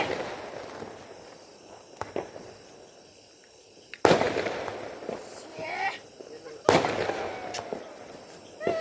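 Two sharp, loud Lakshmi firecracker bangs crack out a few seconds apart, each with a brief ringing tail, over quieter background crackle and ambient noise.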